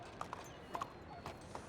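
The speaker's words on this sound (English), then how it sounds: "Just let me hitch my horse." A horse in Red Dead Redemption 2, on the WildRP roleplay server, shifts at a hitching post, its hooves clopping in a few faint, irregular steps over a low game backdrop.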